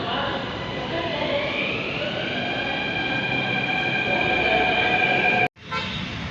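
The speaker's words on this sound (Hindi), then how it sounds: "वैसे अंडरग्राउंड मेट्रो स्टेशन है ये।" A train rumbles at an underground metro station in Delhi, a loud steady roar with a rising whine from the motors. Near the end it cuts off sharply, then the ambient noise returns.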